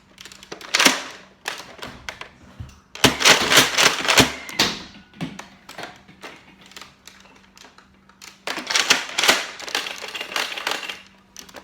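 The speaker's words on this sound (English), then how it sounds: "Now slam fire, but a little bit faster." A Nerf Mega Boomdozer blaster slam-fired at a fast pace: clusters of loud plastic clacks and thumps from pumping and firing, close by, in two main bursts with a pause between them.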